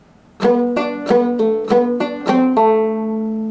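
Several plucked string notes ring out in quick succession, a few sharp strikes with slurred notes between them, ending on a sustained tone.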